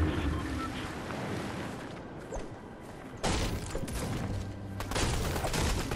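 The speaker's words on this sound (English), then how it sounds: "There's a person shooting at Brian." Muffled gunfire and explosive thumps in a Fortnite match, a steady noisy barrage with louder bursts in the second half, heard at moderate distance with no talking.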